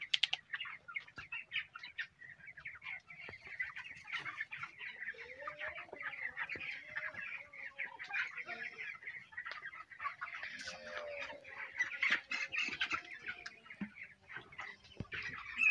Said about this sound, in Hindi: आप जो चिक्स है इसका क्वालिटी देख सकते हैं आप।